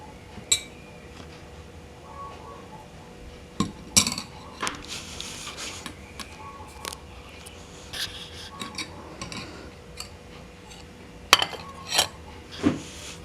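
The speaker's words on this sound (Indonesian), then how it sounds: "Lalu langkah selanjutnya kita aduk ya, pelan-pelan saja" Slow stirring of a dawet kelor mixture in a bowl or pot, with scattered clinks and scrapes of a utensil against the container set apart by quiet pauses, close and fairly faint.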